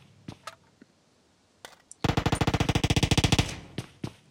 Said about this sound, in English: So we do have a little bit of gunfire early on.